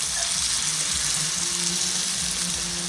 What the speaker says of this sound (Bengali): রিফাইন্ড অয়েলটা গরম হতেই আমি এর মধ্যে একটা একটা করে পকোড়া ছেড়ে দিচ্ছি।